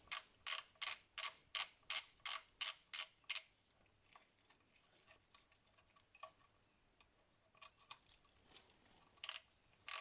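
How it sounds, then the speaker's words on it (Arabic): A ratchet wrench loosens the first bolt on the oil level sensor cover of a VW T4 van: a quick run of about a dozen sharp, close clicks, then quieter scattered clicks and metallic creaks. "هذا أول مسمار يتم فتحه"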